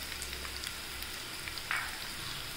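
Chili powder sautéing in hot oil on a low flame for tomato pickle, a steady close sizzle with a brief stirring scrape partway through.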